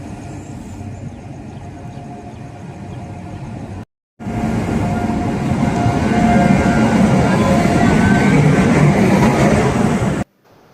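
A passenger train rumbles at Tihu railway station before dawn in heavy rain, a steady low roar and rattle that cuts out briefly and then returns louder and continuous, with talk faintly beneath it.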